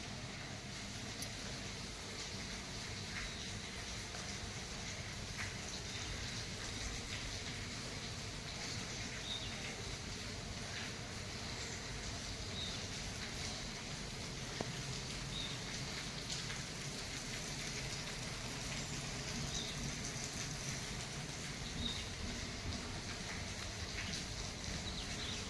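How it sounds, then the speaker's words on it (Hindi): Light rain falls steadily, a soft even patter with no talking, faint and constant throughout. "अब धीमी हो गई है बारिश"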